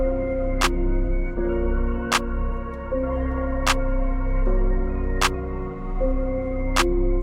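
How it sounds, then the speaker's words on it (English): Programmed drum beat in a dark piano hip-hop track, with a sustained low piano or synth chord progression underneath and a sharp clap hitting roughly every one and a half seconds to give it bounce; no talking. "So we're just getting that clap in to get the bounce going."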